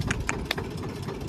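A 2009 Eicher tractor engine, pushed hard in a tochan pulling contest, chugs steadily with a low rumbling throb and irregular knocks, loud and close, with no talk over it.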